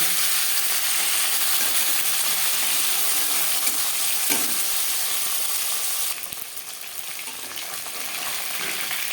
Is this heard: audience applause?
no